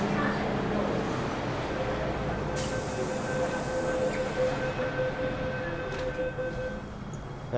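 A Hong Kong MTR train rumbles and hisses as it pulls away from Tseung Kwan O station, with a steady whine and brief bursts of squealing and air noise.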